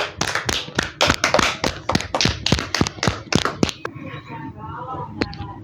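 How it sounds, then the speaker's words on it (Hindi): Children clap together in a rapid, steady rhythm of a dozen or so sharp claps, then stop, leaving faint murmuring voices and a stray tap. "क्लैपिंग।"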